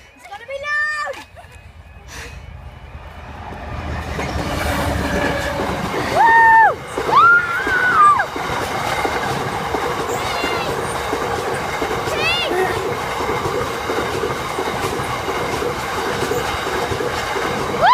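A train passes close by loudly, its rumbling wheels and clattering cars filling the air with occasional squeals, while people shout and talk over the roar.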